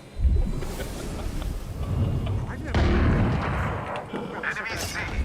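Grenade explosions go off in a first-person shooter game: a loud blast near the start and another about halfway, with gunfire and game voice lines around them.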